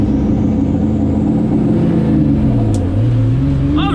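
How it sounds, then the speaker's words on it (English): Drag race car held at high revs for launch, a loud steady engine drone that dips and climbs again, close by with no talk. "Let me launch it a few more times because I have different gearing, so it doesn't launch the same."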